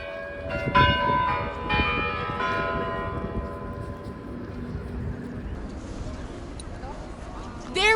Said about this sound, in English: we are now waiting 1 more minute until the bell finally rings